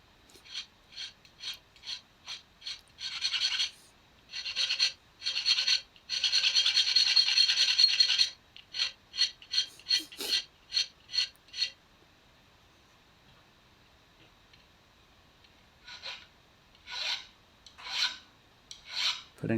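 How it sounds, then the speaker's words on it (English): A 4mm chainsaw file rasps on a steel knife blade, filing a sharpening notch, in quick back-and-forth strokes, bursts of rhythmic scraping separated by pauses, close and fairly quiet. "4mm chainsaw file."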